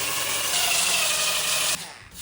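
Power sander roughening the carbon fibre skin of a damaged part down to bare carbon, a loud close continuous abrasive hiss that intensifies midway, then cuts off abruptly near the end.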